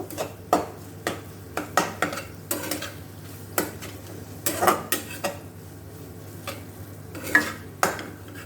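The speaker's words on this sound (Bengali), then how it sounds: "এবার আমি এটাকে একদম ভালোভাবে মিক্স করে নেব।" Bhetki fish pieces tossed with spices in a bowl, a spoon clinking against the dish in irregular sharp taps and scrapes, close and fairly quiet, no voices.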